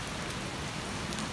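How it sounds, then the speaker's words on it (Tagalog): Steady rain patters and hisses evenly on a surface, fairly quiet, with no voices, falling during a walking tour in the Philippines. "makinig muna kayo sa mga patak ng mga ulan"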